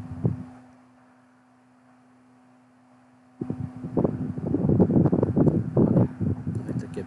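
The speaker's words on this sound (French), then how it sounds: "il y a du vent là, ça souffle un petit peu" Wind blows outdoors during a night lunar imaging session. Quiet at first with a faint steady hum, it then breaks into loud, rough gusts battering the microphone for the last few seconds.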